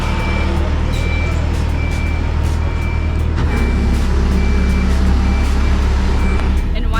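A boat travel lift hauls a sailboat out of the water, its steady reversing beeps repeating at a regular rhythm over a loud, continuous diesel engine drone, with faint voices underneath.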